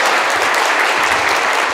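Steady applause from a conference audience fills the room, dense and even throughout, with no voices over it.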